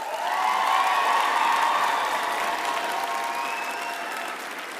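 Graduates at a university health sciences graduation ceremony applaud their families, a loud, dense hall of clapping with a few faint cheers, holding steady then easing slightly toward the end.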